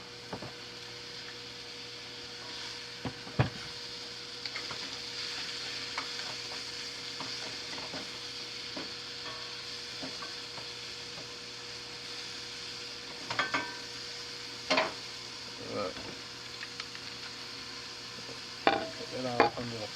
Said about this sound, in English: Make sure I stir my mushrooms